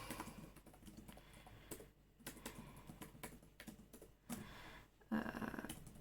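Someone types out a note on a keyboard, a close run of soft, uneven key clicks with a few short pauses and one or two heavier taps, with no talk.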